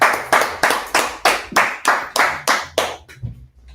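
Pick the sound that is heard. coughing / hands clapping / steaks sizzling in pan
hands clapping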